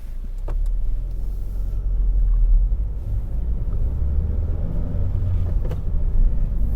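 A car moving off from the roadside, a loud low engine rumble that swells as it pulls away, heard from inside with a few faint clicks and no talk.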